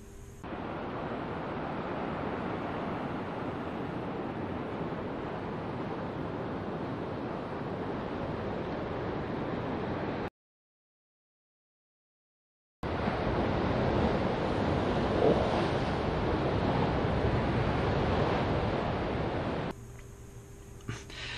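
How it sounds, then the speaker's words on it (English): Steady surf and gusting wind at a local beach in Panama, a constant loud wash with no voices, broken by a few seconds of dead silence midway. "we spent the day out at one of the local beaches"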